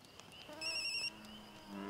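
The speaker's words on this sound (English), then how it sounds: "That is a cell phone." Cell phone rings with a short electronic ringtone, a bright tonal pattern that starts, cuts off, then begins again, heard faintly in a quiet outdoor woodland without speech.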